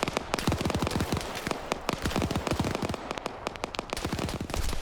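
An MG42 machine gun blazes in Arma 3 during a WW2 bunker fight, a dense, continuous rattle of rapid shots that fills the whole stretch loudly with barely any pause.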